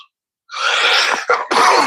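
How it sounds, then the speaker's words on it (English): A single harsh, close cough following a short silence, breaking into two more rough bursts, loud and alone. "I can't get rid of this cough for nothing"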